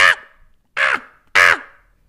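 A voice imitates a DJ record scratch with three loud, close, cracked vocal bursts in an uneven rhythm, each ending in a short fading tail, with no other sound around them.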